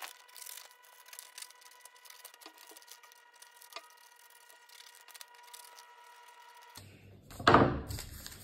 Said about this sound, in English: cut out both tape blades along the dotted lines